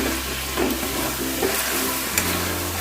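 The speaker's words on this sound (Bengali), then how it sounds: "প্রথম এক মিনিট আমি গ্যাস কমানো অবস্থাতেই গ্যাসের ফ্লেম কমানো অবস্থাতেই নাড়াচাড়া করবো" Yogurt-marinated chicken is stirred in a kadai over a low flame, giving a steady soft sizzle with a few faint scrapes of the spoon, close and continuous.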